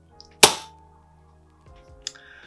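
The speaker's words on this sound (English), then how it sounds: "Just going to dry fire this" A Zbroia Hortitsia MK2 air rifle is dry fired, giving one sharp, loud close snap that rings out briefly, followed by a softer mechanical click and rattle about a second and a half later.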